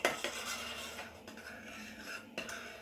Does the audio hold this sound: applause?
no